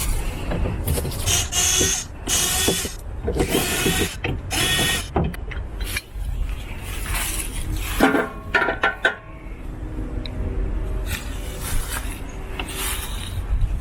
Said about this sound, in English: you just need a number 2 Phillips screwdriver to take these 4 screws out